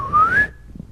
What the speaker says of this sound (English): Could you whistle for us, please?